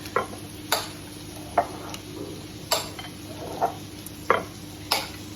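Yogurt mint dip being swirled into a bowl with a utensil, a series of light, irregular clinks and scrapes spaced about half a second apart over a faint background hum.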